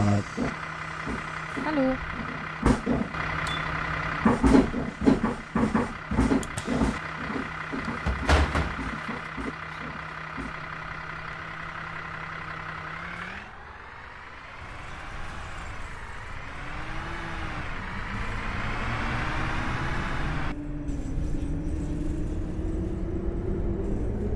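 MAN A37 Euro 6 city bus from 2015 with a ZF gearbox, on a city line. Interior engine drone under the passengers, then a rising whine as the bus pulls away and accelerates, with voices talking over it early on.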